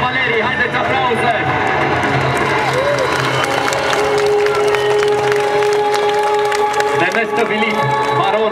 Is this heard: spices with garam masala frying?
no